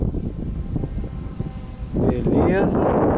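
Strong wind buffets the microphone outdoors on a gusty morning where a modified electric flying wing model is flown, a steady rushing roar that swells louder in the last second.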